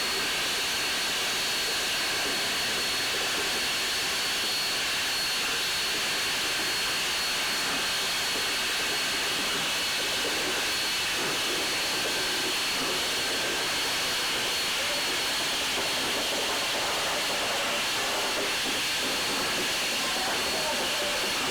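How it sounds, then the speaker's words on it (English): Steam locomotive CNR 6060 backs slowly around a very tight curve, giving a steady, broad hiss and rumble with faint squealing tones that runs unbroken throughout, while a voice talks over it. "locomotive 6060 is going to back up around this very tight curve"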